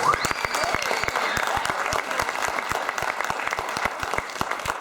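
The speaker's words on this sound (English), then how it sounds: "I think that deserves a round of applause" An audience claps steadily in sustained applause, close and fairly loud, with no talking over it.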